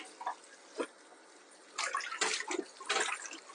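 Turnip greens being washed by hand in a basin of water give a few faint sloshes at first, then louder clustered splashes and swishes near the end.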